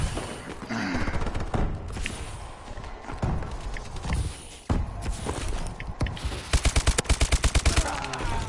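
Video game gunfire with sniper and machine gun shots: scattered single cracks and short bursts, ending in a rapid, evenly spaced string of automatic shots, alongside other game noises.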